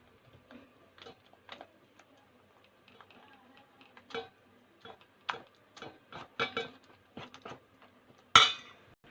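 Rice and wheat flour batter being stirred in a bowl, a quiet series of irregular spoon clinks and scrapes against the bowl, growing louder near the end with one sharp knock.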